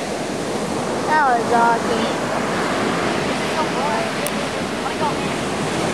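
Ocean waves surging and breaking at The Wedge, a loud continuous roaring wash with wind buffeting the microphone, while excited voices talk over it.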